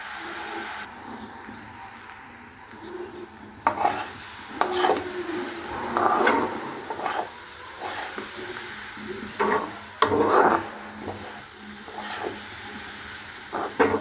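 Grated coconut cooked down with jaggery in a pan, stirred with a wooden spoon; soft, close scraping and knocking strokes come in an uneven rhythm over a faint hiss, with no talk.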